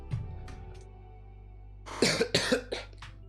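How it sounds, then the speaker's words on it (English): A faint throat noise, then after a quiet pause a short burst of three or four harsh, close coughs in quick succession. "apologize for the coughing there"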